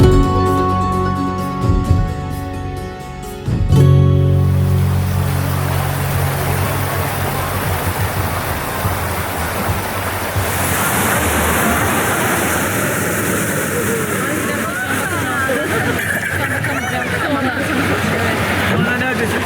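A motorboat runs through water in the deep Karanlık Canyon near Kemaliye, Turkey, with a steady engine drone and rushing water throughout, and people talking over it.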